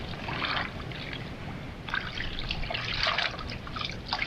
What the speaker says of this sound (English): fill washing up bowl with cold water to put Dick's shorts in.